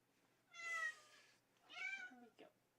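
A cat meows twice in quick succession, close and fairly clear, with a short faint trailing sound after the second call over a quiet background.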